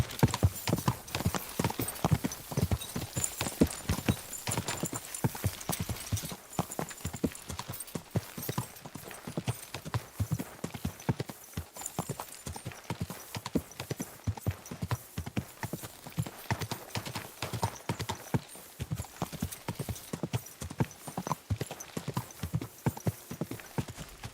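Steady, rapid clip-clop of a horse's hooves runs close and loud throughout, dense and rhythmic, with a possible faint whinny and scattered bits of talk underneath.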